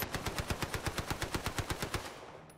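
Rapid automatic gunfire in the Call of Duty Warzone video game, a steady burst of about sixteen evenly spaced shots over two seconds, close and loud, then trailing off.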